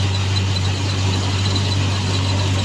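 A Rusi Piaggio scooter engine idles in a steady, close, continuous drone with a low hum and no breaks in the sound.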